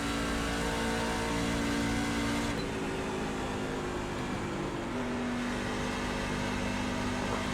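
A NASCAR truck in a racing video game revs hard out of the turns on an oval, its engine note holding a steady high drone that shifts pitch mid-run, continuous and loud with no voices.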